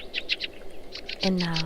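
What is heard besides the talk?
birds chirping outside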